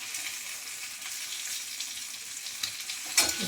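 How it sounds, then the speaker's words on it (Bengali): Papad (poppadoms) fry in hot oil in a pan with a steady, close sizzle and crackle, ending in a brief clatter near the end. "এবার এখানে পাঁপড় ভাজছি"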